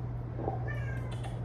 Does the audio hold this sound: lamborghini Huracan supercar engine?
no